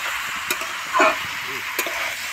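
Spinach curry with bori stir-fried in a pan, a loud, steady sizzle with a few brief scraping strokes of a spatula rising through it.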